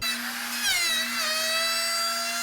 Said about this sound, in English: we're going to make our large cut to the outside of our 2 strips of wood with our large D-handled router